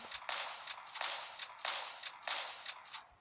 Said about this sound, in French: Ça, c'est le fusil à pompe.